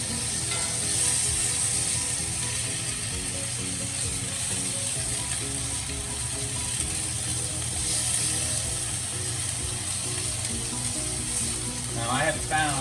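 Hot oil sizzles steadily in a skillet while cooking chicken, a constant frying hiss with faint pops and light scraping, near and continuous, with a brief clatter near the end.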